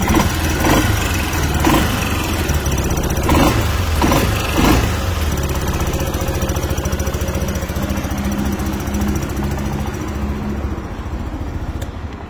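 A SYM Cruisym 300cc scooter engine runs up close and loud as the throttle is worked, rising in a few revving bursts early on before settling into a steady rough idle.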